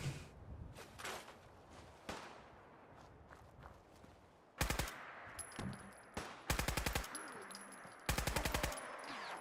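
Automatic gunfire in Fallout 4: after quieter footsteps and shuffling, three loud rapid bursts of shots ring out close by, each a second or so long.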